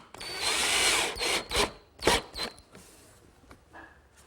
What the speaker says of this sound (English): and attach it with the screws.